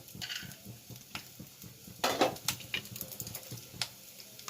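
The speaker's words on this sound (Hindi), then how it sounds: "मूंगफली कच्चा है, इसको हमें भून लेना है थोड़ा सा।" Raw peanuts are roasted in a dry pan over low heat, a faint sizzle under rattling, scraping stirs and light metallic clatter of a utensil against the pan, quiet and close with no voices.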